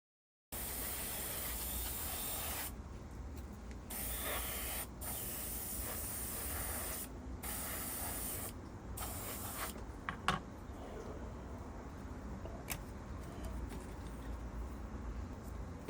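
Thinned khaki Tamiya paint is airbrushed onto model wood slats, a faint steady hiss broken by several short pauses early on, then continuing evenly.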